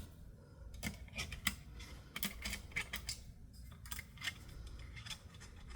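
Small metal screws dropped one by one into an FX Leopard air rifle chassis, giving sharp little clicks and taps at irregular moments, close and fairly quiet, with no talking.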